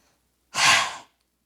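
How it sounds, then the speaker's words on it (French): A single forceful exhalation during a yoga breathing exercise, pushed out all at once with the tongue extended: a loud, breathy whoosh lasting about half a second, close and alone, with silence before and after. "à l'expiration, on va vraiment essayer d'expulser l'air tout d'un coup, en même temps qu'on va sortir la langue"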